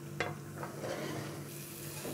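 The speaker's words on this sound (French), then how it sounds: "Voilà, on les laisse saisir tranquillement." Food sears in a pan with olive oil, a soft steady sizzle with a couple of light utensil clicks near the start, fairly quiet and continuous throughout.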